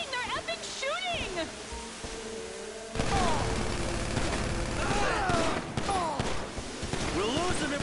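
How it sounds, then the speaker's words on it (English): Bursts of gunfire during a shootout, sharp cracks and rattles starting abruptly partway through and continuing densely, with people shouting excitedly over and between the shots. "They're shooting! They're epic shooting!"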